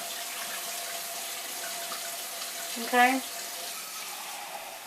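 Tap water runs steadily into a pot, about four cups for boiling boneless, skinless chicken, a low even rush throughout while a voice speaks a single brief word midway.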